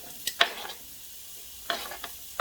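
Red onions and chickpeas sautéing in a pan give a quiet background sizzle with a few sharp utensil scrapes and clinks in short bursts, close by, with no talk.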